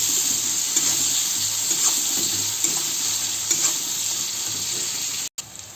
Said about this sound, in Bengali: পেঁয়াজ কুচিটাকে ভালো করে ব্রাউন করে